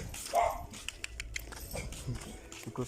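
Dogs at a family home in the Philippines give a bark near the start, then quieter yaps and scuffles follow amid outdoor background noise.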